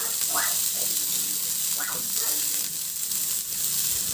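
Sliced onions, cut into rings, fry in a pan with a steady, close sizzling hiss that holds evenly throughout, with a few faint higher chirps over it.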